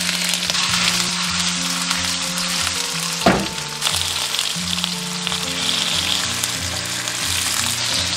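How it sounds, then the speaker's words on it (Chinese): Cubes of firm tofu pan-fry in oil over low heat, giving a loud, continuous close sizzle with one brief clatter partway through and no talking. "把豆腐这样提前煎一下"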